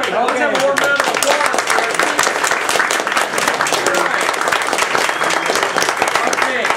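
An audience breaks into a warm, steady round of applause after a lecture on economic collapse, dense clapping filling the room continuously from start to finish.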